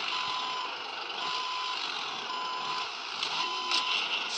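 A truck's reversing alarm in the Grand Truck Simulator driving game, beeping steadily at an even pace over a low engine drone, with no speech.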